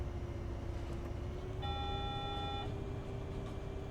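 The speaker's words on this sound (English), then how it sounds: "there's a beep" A steady electronic beep tone sounds for about a second inside Bus Simulator 18, over a constant bus engine drone and road rumble.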